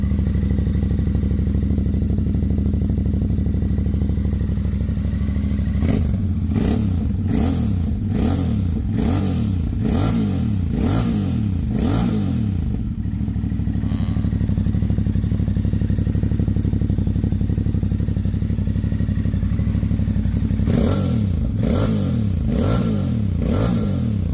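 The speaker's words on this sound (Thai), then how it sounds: "ฟังเสียงท่อนะครับ" A Royal Enfield Bear 650 motorcycle with a handmade megaphone slip-on exhaust idles with a deep exhaust note, then bursts into repeated sharp revs, settles back to idle, and revs again near the end.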